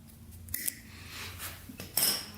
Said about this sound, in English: We'll cut a little piece of that off.